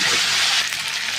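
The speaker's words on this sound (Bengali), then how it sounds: "ভালো করে ভেজে দেবো" Potatoes frying in a pan give off a loud, steady hissing sizzle that eases slightly partway through.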